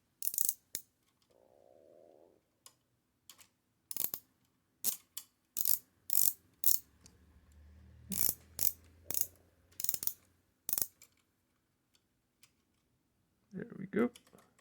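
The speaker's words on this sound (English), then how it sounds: "I'm gonna unscrew this little screw over here" A small screw on a Remington KMC is worked loose, producing a run of sharp, close clicks and ticks in an irregular rhythm over a faint low hum, with a brief voice near the end.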